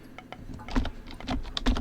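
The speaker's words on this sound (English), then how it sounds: "And I apologize for the really loud typing." Loud clacking keystrokes on a computer keyboard during an Age of Mythology campaign commentary session, irregular bursts of taps close to the microphone with no talking.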